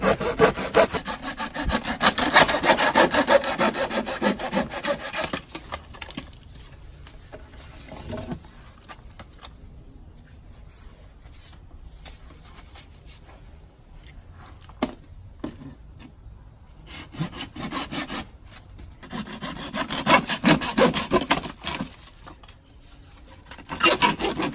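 A hand saw cuts a French drain pipe to length outdoors, with steady rhythmic rasping strokes that are loudest at the start and end and quieter and sparser in the middle.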